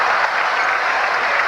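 A basketball arena crowd during a 1992 Lakers at Portland Trail Blazers playoff game gives a sustained, dense roar of cheering and murmur, loud and even throughout.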